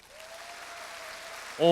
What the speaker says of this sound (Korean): 남유선 씨 박수가 제일 커